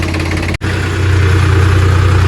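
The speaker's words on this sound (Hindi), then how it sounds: "पहुंचे हुए हैं, साइड पे पहुंच रहे हैं दोनों ट्रैक्टर" Sonalika 35 tractor engines drive along a road into Delhi while hauling bricks, giving a steady, loud, low diesel drone with a brief dropout near the start.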